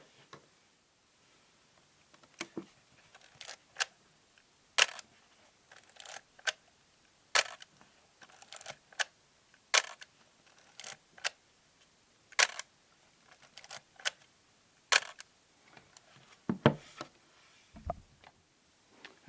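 A film camera's shutter fires repeatedly in sharp, close clicks, each followed by the softer ratcheting of the film advance, spaced a second or two apart in a quiet room.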